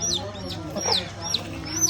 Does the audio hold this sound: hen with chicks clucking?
yes